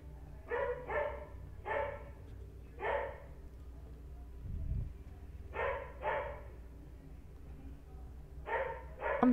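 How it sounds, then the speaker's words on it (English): A dog barks during a Project Zomboid game, sounding off in repeated quick pairs and triplets of moderately loud barks separated by short pauses over a quiet background hum. "my dog's infernal barking"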